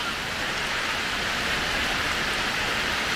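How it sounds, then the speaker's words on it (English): Rain falls hard at a campsite by Big Crystal Creek, a dense, steady hiss of drops drumming on surfaces all around, continuous and loud with no voices. "it rained pretty hard"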